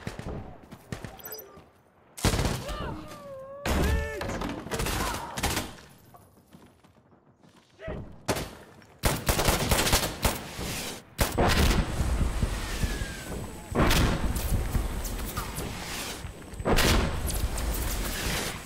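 Mortar barrages and heavy gunfire in the tactical shooter game Insurgency: Sandstorm, with repeated loud blasts and bursts of shooting that keep coming in waves without a break.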